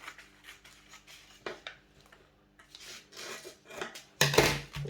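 Scissors snip through fabric while cutting a high-waist pencil skirt and its fitted band, several short crisp cuts and rustles close by, ending in a louder scrape, with no voices.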